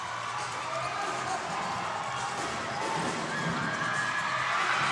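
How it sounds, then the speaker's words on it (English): Steady roar of a noisy crowd filling a convention center during a basketball semifinal, with a broad wash of voices and scattered shouts continuing throughout and swelling slightly toward the end. "A very noisy crowd."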